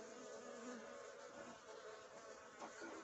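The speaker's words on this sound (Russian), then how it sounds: "Молодые пчела вылезают отсюда." Honey bees swarm around an open horizontal hive with 48 frames, making a dense, continuous buzz close by with a steady drone throughout.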